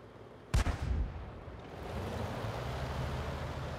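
An artillery shot in the World of Tanks video game, a single sudden loud boom followed by a rolling rumble that fades into a steady wash of ambient battlefield noise.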